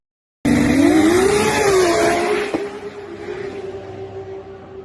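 A Tesla Roadster, the second-generation SpaceX edition, launches hard down a quarter-mile run: a loud, rising motor whine and road roar surge together, peak with a sharp thump after about two seconds, then ease into a steadier, fading drone.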